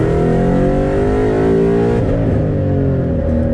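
A car engine with an MT82 manual transmission revs hard toward 7000 rpm, a loud, close, continuous mechanical roar whose pitch climbs and then dips and wavers, with no voices.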